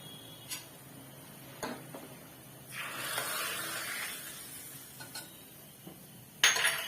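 Hot tempering poured into a pot of Sindhi kadhi, a soft sizzling hiss swelling for about a second near the middle, with a few light clinks of utensils before and a sharper clatter at the end, no talk.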